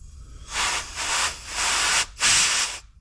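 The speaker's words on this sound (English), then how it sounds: "I'll use a little bit of compressed air and make sure that the float isn't stuck" Compressed air blasts into the float chamber of a carburetor from a Force 70 hp outboard: four loud, close hissing bursts, each about half a second, with brief gaps between and no voices.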